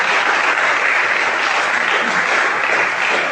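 A church congregation applauds together, a dense, loud, even burst of clapping lasting a few seconds without speech.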